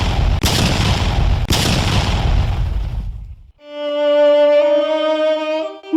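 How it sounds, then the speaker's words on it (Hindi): A loud atomic bomb blast over Hiroshima plays as a dramatized effect: a heavy, close roar with two sharp cracks lasts about three seconds, then cuts to a sustained tonal drone. "दिल को हिला देने वाला एक जोरदार धमाका हुआ"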